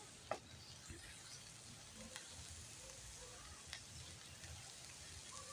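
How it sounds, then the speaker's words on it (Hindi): Onions roast lightly in a pan with vegetables and chicken while a spoon keeps stirring, a steady close sizzle with occasional soft clicks from the spoon, continuous and without voices. "प्याज को भी हम 2 से 3 मिनट तक भून लेंगे"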